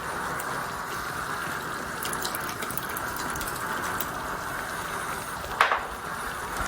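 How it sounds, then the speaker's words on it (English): Meat stock poured into a pot of ogbono soup makes a steady, close liquid pouring rush that runs throughout, with one brief splash or knock near the end and no speech. "at this point I can now put in some meat stock"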